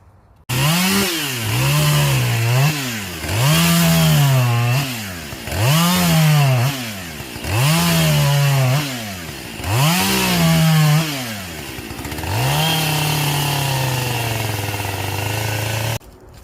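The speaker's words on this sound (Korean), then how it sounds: "작업하다 기름이 떨어져서 기름 가지러 갑니다" Chainsaw cutting wood while working on a bench along a hiking trail: loud, close engine revving up and down in repeated surges during cuts, then a steady idle at the end.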